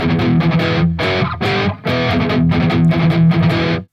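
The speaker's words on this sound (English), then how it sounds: "But it's actually another guitar doing the up hits like this." Distorted electric guitar punches out the up-hit accents from a riff in a choppy, galloping rhythm, loud and upfront with brief pauses, no voices.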